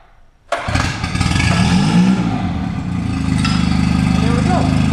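A Mercury 9.9HP outboard motor with a rebuilt carburetor is pull-started after a short rattle, catches abruptly and runs loud and close with a steady throbbing idle that picks up slightly, with a voice speaking over it.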